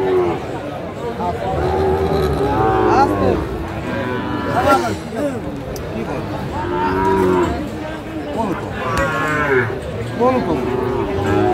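Sahiwal cattle and other cows low repeatedly at a busy livestock market, loud drawn-out moos close by, overlapping with crowd chatter and people talking.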